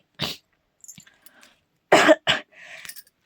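A person with a cold gives two sharp, close coughs, then a short throat-clearing and a quieter third cough, with brief silences between.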